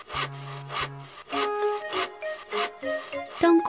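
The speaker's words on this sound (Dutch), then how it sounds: "Ik zaag deze houtblokken in planken, zegt Boris." Repeated rasping strokes of a handsaw cutting wooden logs into planks, back and forth in a steady rhythm, close and fairly loud.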